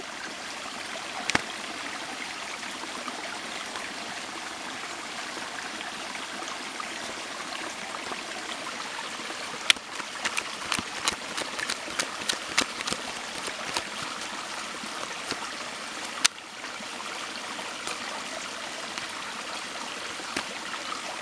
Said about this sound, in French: Vous entendez l'eau, c'est beau, hein, c'est relaxant.